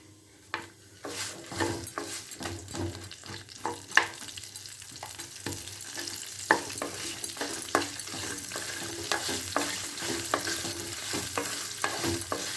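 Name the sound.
onions frying and stirred in pan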